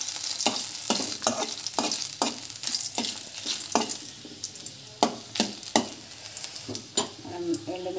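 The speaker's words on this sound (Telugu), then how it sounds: "ఇక్కడ పచ్చిపులుసుకి అయితే పోపు అయితే పెడుతున్నాను." Spices and dried red chilies sizzle in hot oil as a tempering for pachi pulusu. Close up, a spoon scrapes and stirs the pan in a steady rhythm over a constant soft frying hiss. No one speaks.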